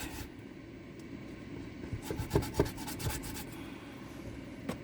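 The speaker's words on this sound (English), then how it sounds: "that was sort of a coarse sandpaper, and then I go back in with a smoother one" Coarse sandpaper rubbed over cured resin by hand, a soft steady rasping that thickens into a burst of quick back-and-forth strokes midway, fairly quiet and close with no talking.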